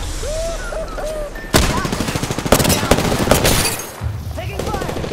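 Apex Legends gunfight with loud rapid automatic bursts and scattered shots breaking in after a quieter opening, the firing continuing in clusters over busy game sound and a speaking voice.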